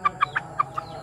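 A curly-feathered cross of walik and kampung chicken gives five short, sharp clucks in quick, even succession, close by.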